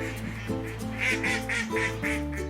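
Australian black swans in a harbour-side park give a run of honking, nasal calls in a steady rhythm, fairly close and fairly loud, over a low background hum.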